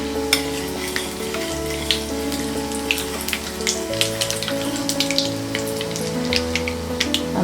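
Chana dal frying in hot oil with spluttering mustard seeds and cumin for an ivy gourd stir-fry, a steady close sizzle with scattered sharp pops and crackles and occasional stirring clatter, no talking.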